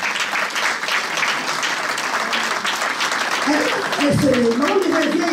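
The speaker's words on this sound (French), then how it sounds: "Est-ce que pour ça, on peut applaudir maman Mireille?" An audience at a Brussels charity gala applauds Maman Mireille, steady dense clapping throughout, with a voice starting to speak over it near the end.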